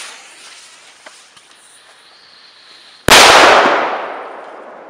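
A small Mefisto firecracker with about 0.5 g of powder goes off outdoors: quiet surroundings, then one sharp, loud bang that rings out and fades over a second or two.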